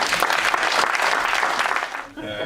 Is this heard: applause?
yes